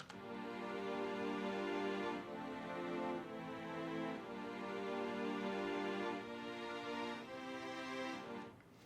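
Layered synth chords from a remix swell in repeated sustained blocks, each held about two seconds with short dips between, dense and buzzy and fairly quiet, with no voices.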